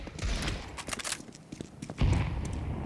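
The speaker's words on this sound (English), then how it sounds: "Oh, big nade." A grenade detonates in a Counter-Strike esports match at IEM Rio, a heavy low thump about two seconds in that rumbles on, following scattered gunfire and sharp game clicks at moderate level.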